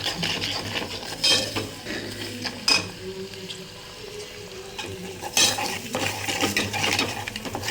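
A spoon stirring turmeric and green chili in a pan, with repeated scraping and clinking strokes against the metal over a soft background sizzle, no talking.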